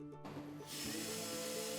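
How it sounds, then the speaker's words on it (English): A power sander starts up on a damaged plastic car bumper during hole repair, rising to a steady, dense whir and grinding hiss that fills the rest of the moment, close and fairly loud. "The sanding process is shown here"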